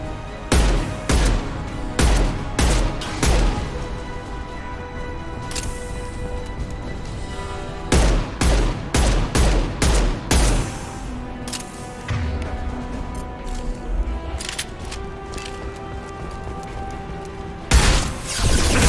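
Heavy gunfire in the video game Mass Effect 2, Legendary Edition: bursts of sharp, loud shots come in clusters, separated by quieter stretches, with one more volley near the end.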